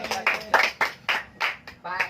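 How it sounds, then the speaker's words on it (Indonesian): A group of students clapping in a classroom teaching session, several short bursts of applause in uneven rhythm, fairly close, with voices murmuring underneath. "Tepuk tangan."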